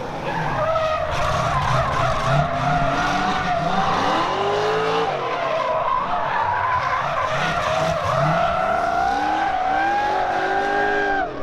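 Tires squeal and skid continuously at a Gymkhana Grid event as a long-nosed car with a big rear spoiler slides around, with engine revving underneath and pitch sweeps as the car turns, loud and steady throughout.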